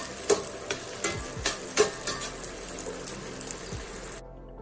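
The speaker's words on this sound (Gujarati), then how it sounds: "આ રીતે બીજો ગુંદ પણ તળી લઈશું." Pieces of edible gum (gond) fry and puff up in hot oil, giving a continuous close sizzle broken by several sharp clinks and scrapes of stirring before it cuts off abruptly into silence.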